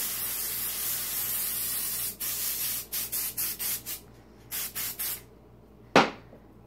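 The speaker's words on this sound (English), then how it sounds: "Now once all of the hair is in place, I'm going to spray." A long hiss of aerosol hairspray, followed by several short bursts of spraying in quick succession, then a brief thud.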